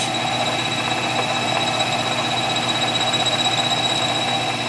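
Steady, unbroken mechanical whine and hum from a machine cutting a bevel through a wax model for a 14K solid gold watch bezel, close and continuous with no voices.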